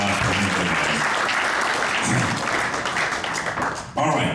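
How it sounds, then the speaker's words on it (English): Sustained audience applause at a Masters Cricket USA zonal banquet, dense clapping filling the room throughout, with a brief dip near the end before it swells again and some voices mixed in. "A round of applause for him, guys."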